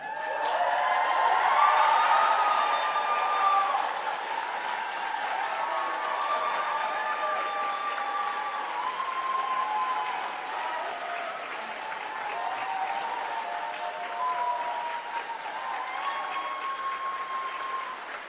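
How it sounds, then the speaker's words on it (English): Graduation ceremony audience at a University of King's College encaenia gives a sustained ovation, steady applause filling the hall throughout with some cheering and voices mixed in, loudest near the start and holding evenly to the end. "let everyone hear you with your biggest ovation to your family, friends, your faculty, and everyone who's helped you achieve your academic goals"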